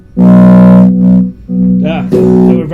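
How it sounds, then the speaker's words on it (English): Distorted electric guitar played through a mini amp with a distortion effect, loud harmonic-rich sustained notes and chords close to the microphone, overdriving it. "Distortion."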